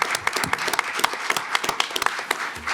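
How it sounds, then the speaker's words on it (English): A small group at a county commissioners' meeting gives a round of applause. The claps are scattered and uneven at moderate loudness and carry on steadily for the whole stretch. "let's give you guys all a big round of applause before you leave"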